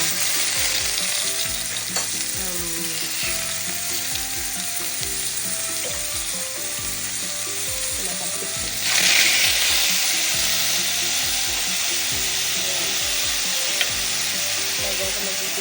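Pork sizzles and crackles in hot oil in a home kitchen, a loud continuous frying hiss with clinking utensils and stirring, swelling briefly midway as the meat is moved.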